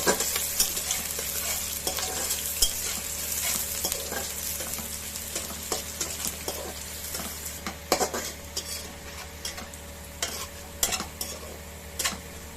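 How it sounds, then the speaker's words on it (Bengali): Onions and other ingredients stirred in a sizzling frying pan, with repeated scraping and clinking of a utensil against the pan over a steady background of frying. "দিয়ে ভালো করে নাড়াচাড়া করতে হবে"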